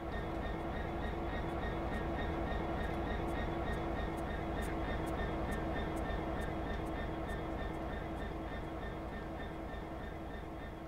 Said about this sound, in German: Da ist doch noch ein Zug voraus. Und der fährt da gerade ein.